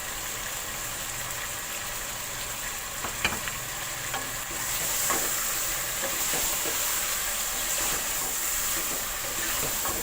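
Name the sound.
chicken and tomatoes frying in ghee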